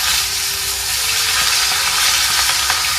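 Fish frying in hot oil, with a steady dense sizzle that stays loud and close throughout.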